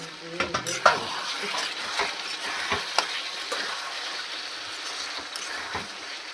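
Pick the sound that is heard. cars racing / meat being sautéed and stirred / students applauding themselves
meat being sautéed and stirred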